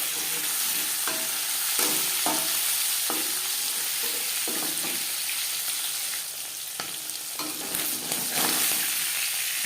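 Pangas fish frying in hot oil in a pan, with a continuous loud sizzle broken by repeated sharp stirring and scraping clatters and no voices.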